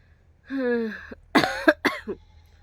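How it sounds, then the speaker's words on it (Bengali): A person coughing from illness: a hoarse rasping throat sound, followed by a quick cluster of three or four harsh coughs, close and loud in an otherwise quiet room. "আমার আর কাশিটা কমছে না"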